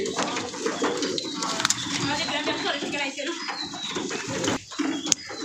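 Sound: pigeons cooing

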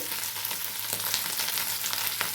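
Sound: potatoes added to sautéed green chilies, frying in a pan

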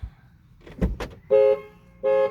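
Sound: car horn warning when door opened

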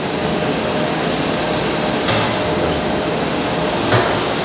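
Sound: fish feed extruder running

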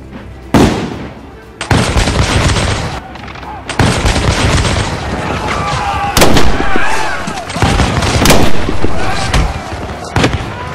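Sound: musket gunshot in a Lego brick film

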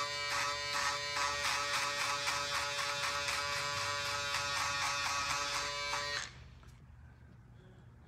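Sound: Finale electric shaver removing stubble in mullet haircut

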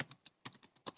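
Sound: typing on a computer keyboard

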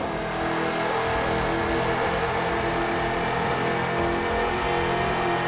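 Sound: race car engines in Ford Racing 2 video game

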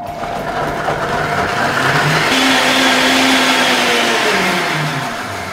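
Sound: blender mixing salted chestnut espuma preparation

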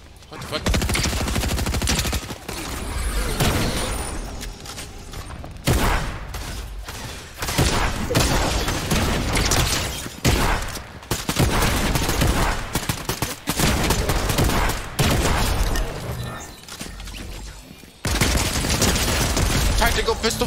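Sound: tactical pistol gunfire in Fortnite video game

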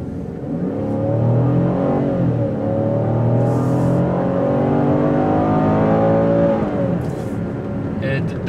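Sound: V6 car engine accelerating

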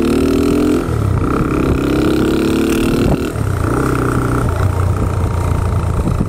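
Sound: used motorcycle engine running

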